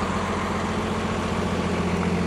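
A dump truck with 81,000 miles and a new 10-foot heavy-duty dump body idles steadily, its low engine rumble close and constant throughout.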